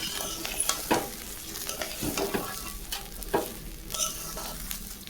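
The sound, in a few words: rice frying in ghee for khichuri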